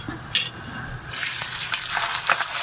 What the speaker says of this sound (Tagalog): Pag nagpiprito talaga kayo ng laman loob, mabula talaga yung mantika